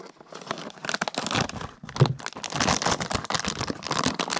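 Blind-box packaging for a Doors Collectible Minifigure Series 1 figure being torn and crinkled open by hand. Close, busy bursts of ripping and rustling run throughout, with one sharper crackle midway.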